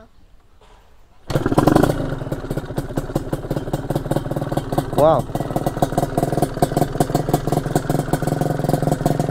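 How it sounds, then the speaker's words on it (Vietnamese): A two-stroke Yamaha YAZ motorcycle engine starts abruptly and settles into a steady, rattly idle close by, with brief exclamations from people nearby. "bây giờ mình sẽ nổ máy cho anh em nghe thử ha"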